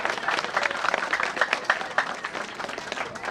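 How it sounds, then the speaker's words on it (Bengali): Audience at a tribal Tusu fair gathering claps in a loose, uneven burst of applause with a few sharper individual claps standing out. "একটু হাততালি দেবেন সবাই"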